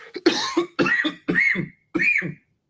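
Several harsh coughs in a quick sequence, close and fairly loud, each a short raspy burst separated by brief pauses.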